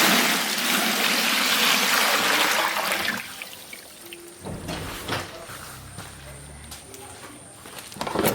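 Water is poured in a heavy, continuous rush onto soaking cassava during fufu processing, then drops away to a quieter trickle with scattered splashes and light handling noises, with a voice briefly audible.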